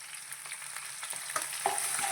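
Sliced onion and split green chillies frying in oil in a pan for a village-style country chicken kurma, a continuous close, even sizzle with faint stirring scrapes and no voices.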